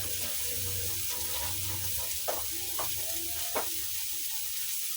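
Water is poured or drained off in a home kitchen while ginisang sayote with chicken and tomato cooks, a soft steady splash and hiss with a few faint clinks, fairly quiet throughout.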